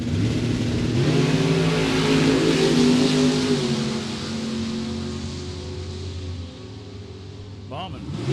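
A Camaro drag race car revving hard in the left-hand lane at a Super Pro drag event, a loud, rising engine roar that slowly fades into the distance.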